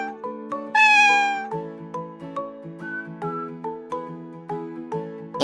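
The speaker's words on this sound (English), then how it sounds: "One day, they saw a shy little cat hiding in the grass in their" A single drawn-out cat meow rises over a plucked, rhythmic musical backing, with the melody continuing after the cry fades.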